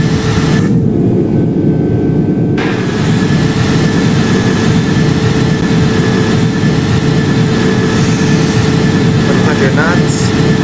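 Simulated jet engines of a KLM Airbus A330 at takeoff in the Project Flight game make a loud, steady, broad roar with a constant tonal whine that holds throughout.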